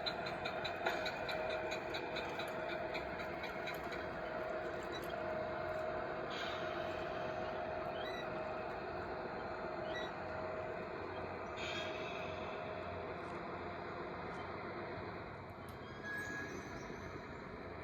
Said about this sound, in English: Train's going to start slowing down.